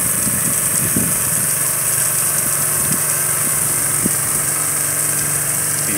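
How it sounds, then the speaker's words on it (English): A little Honda motor driving a water pump on a water truck runs at a constant, loud, buzzing drone, with faint knocks and clanks here and there. "Using a little Honda motor as a pump."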